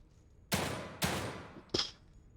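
Three gunshots from The Evil Within 2, the first two about half a second apart and the third after a longer pause, each a loud, sharp crack with a decaying tail and no talking.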